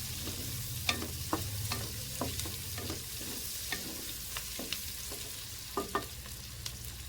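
Chicken for jalfrezi frying over high heat, a steady sizzle with repeated spoon scrapes and stirring knocks against the pan, close and fairly quiet, no voices.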